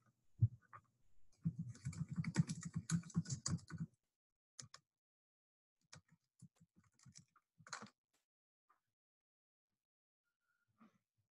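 Keys tapped on a computer keyboard while entering a search, starting with a dense quick flurry of clicks and then thinning into scattered, sparse keystrokes separated by silence; close and fairly quiet.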